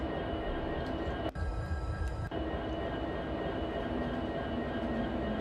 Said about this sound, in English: And you can hear the traction motors!